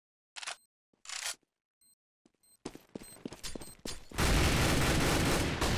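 Gunfire from the game Counter-Strike on the de_apex community map: a few sharp isolated shots, then a rapid burst of overlapping shots that builds into a loud, sustained barrage of fire near the end.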